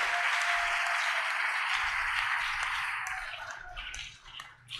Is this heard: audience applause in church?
yes